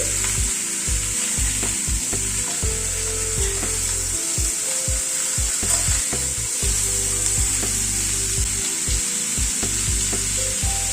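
Pumpkin pieces with salt and turmeric stirred in a hot frying pan, giving a loud steady sizzle broken by repeated scraping strokes of the spatula, close and alone with no talk.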